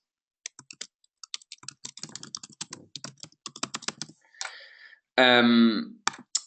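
Rapid clicking of keys on a computer keyboard as someone types in details, steady close-up keystrokes with short pauses, followed by a brief louder burst near the end.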